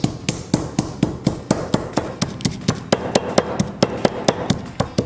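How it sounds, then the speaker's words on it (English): Cardamom being pounded in a mortar and pestle, a steady rapid series of sharp, close knocking strikes repeating evenly for several seconds with no talking. "I'm just going to have it in my mortar pestle. So I'm just gonna grind my cardamom."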